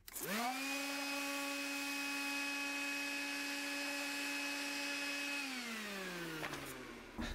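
A Milwaukee vacuum runs over drywall, starting with a rising whine that holds as a loud, steady tonal motor drone, then winds down near the end. No one speaks.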